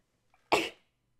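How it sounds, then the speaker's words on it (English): A single short, sharp sneeze or cough-like burst, close and fairly loud, in an otherwise quiet room. "I didn't mean to pause to sneeze."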